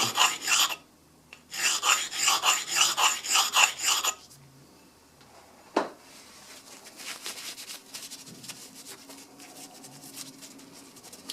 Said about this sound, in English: I'm still taking metal off there.